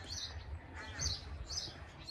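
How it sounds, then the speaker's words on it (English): Birds chirp in a private terraced garden, with faint, intermittent calls recurring in short bursts over a steady background hum. "An abundance of wildlife, you've got lots of birds."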